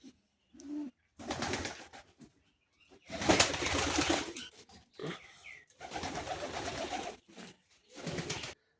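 Pigeons on a pigeon farm give soft throaty coos and rustles in several separate bursts with short quiet gaps, close by and without talk.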